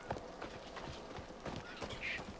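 Horse hooves in the video game Assassin's Creed Shadows, a quiet, rhythmic clip-clop of a horse moving at a steady gait, heard faintly under soft background sound.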